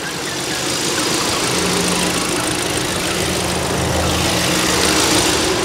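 A used Kia K5's engine idles steadily up close, a constant low rumble with a faint mechanical ticking and no voices.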